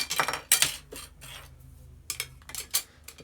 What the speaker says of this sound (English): Tuck the spoon in.